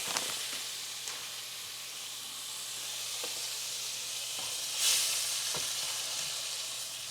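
Frozen vegetables and seasoning blend sizzling steadily in a hot pan, a continuous close frying hiss with occasional stirring scrapes and a brief louder steam burst, no talking.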